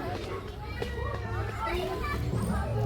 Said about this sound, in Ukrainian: Наші діти ростуть, і ви це добре чуєте.